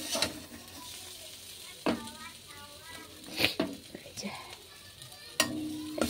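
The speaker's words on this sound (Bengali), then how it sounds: "কচুটা ভালোভাবে নাড়াচাড়া করে একটু ভাজা ভাজা করে নিলাম" Taro pieces fry in a wok, a quiet steady sizzle broken by a few sharp scrapes and clinks as a utensil stirs them, with a faint voice now and then.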